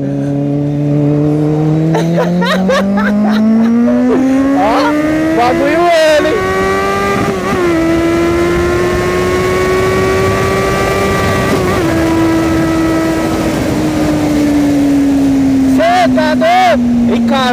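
A Kawasaki Z800 motorcycle on a test ride, its engine note rising and falling steadily through gear changes at close range, strong and continuous, while a rider talks intermittently over it.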